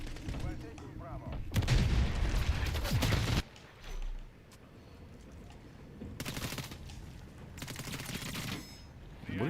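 Gunfire in Call of Duty Modern Warfare III: two loud bursts of rapid automatic shots, the first lasting about two seconds, then quieter stretches of game ambience before further bursts of fire return later.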